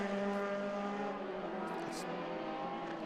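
Race car on a club racing circuit passing by, a steady engine drone with harmonic whine under a commentator's voice, fairly distant and continuous.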